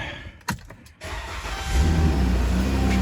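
A 2013 Chrysler Town and Country's repaired exhaust runs at a steady idle, a low rumble that swells and settles into a constant drone after a few brief mechanical clicks and thumps, with no one talking.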